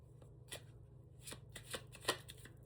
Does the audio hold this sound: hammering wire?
no